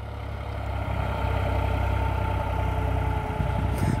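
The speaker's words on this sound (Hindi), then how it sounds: "अभी दूसरे का हाई में चल रहा ट्रैक्टर" Diesel engine of a New Holland 3600-2 tractor running in second gear, a loud, steady low rumble with a constant mechanical drone and no voices.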